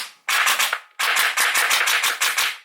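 A gel blaster fires gel balls in two rapid full-auto bursts, a short string followed by a longer one, each shot a sharp close snap, with no voices.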